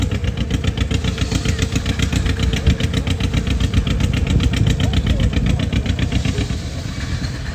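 An antique Model B tractor with a big stovepipe exhaust runs steadily nearby, a rapid, even, loud chugging beat that holds throughout without pause.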